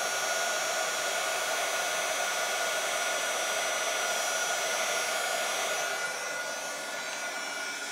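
Heat gun melting embossing powder on a card, a loud continuous blowing whoosh held steady and close, easing slightly near the end.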